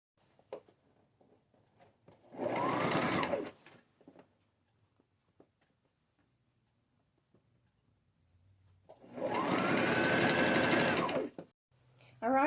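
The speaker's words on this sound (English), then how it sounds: "So let me get that sewed on." A sewing machine stitches a cuff onto a pair of jeans in two separate bursts of steady whirring, each lasting about a second or two. Quiet handling clicks and rustles fill the pauses between them.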